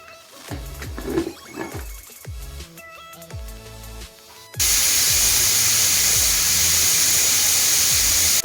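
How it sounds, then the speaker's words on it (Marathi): After some quieter clinks and knocks, a loud, continuous rush of steam hissing from a pressure cooker suddenly bursts out and holds steady to the end. "आता आपण याला पाच शिट्ट्या करून घेऊया"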